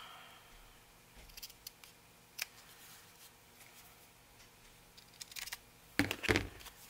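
Scissors trimming paper along an edge while a manila envelope journal is crafted, giving a few quick snipping cuts near the end after scattered light handling noises, close and fairly quiet.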